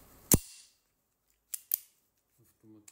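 A Zoraki 914 Auto blank pistol with a 14-round magazine gives one sharp metallic snap, then two quick clicks after a pause, and a voice speaks briefly near the end.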